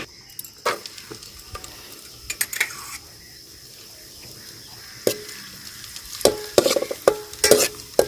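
Raisins frying in hot oil in a pan, a faint low crackle with scattered sharp clicks and metallic clinks that grow busier toward the end.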